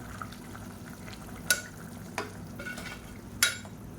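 Soaked, drained rice being stirred into a biryani pot with a spoon, a few sharp scraping clinks standing out over a low steady simmer, with no talking.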